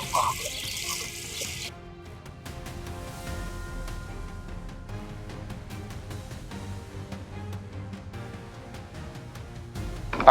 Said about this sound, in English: Now it's time to get the cardboard wet.